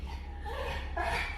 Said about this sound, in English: That's my dog you hear